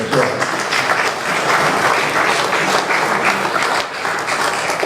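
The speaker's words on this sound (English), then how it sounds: "you can give him a big round of applause after that" A crowd gives a big round of applause at a gathering, dense steady clapping filling the room for several seconds with a brief dip near the end.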